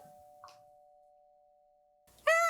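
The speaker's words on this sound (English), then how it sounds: "I hear a doorbell." A doorbell chime rings with a steady held tone in a quiet room, then a voice begins speaking just as it ends.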